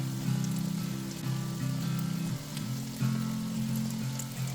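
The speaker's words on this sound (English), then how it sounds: "We're going to fry the zucchini steaks for about 5 minutes per side on medium heat" Zucchini steaks fry in a pan over medium heat with a steady, loud sizzle and crackle that runs unbroken under a low hum, with no talk.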